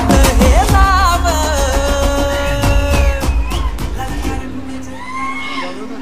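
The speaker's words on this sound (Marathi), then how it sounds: "जोरदार टाळ्या आणि शिट्ट्या आणि एवढं भरलेलं खुलं नाट्यगृह" A packed open-air theatre audience erupts in loud applause, cheers and sharp whistles, with a dense, continuous roar of clapping and whooping that stays strong throughout and eases slightly toward the end.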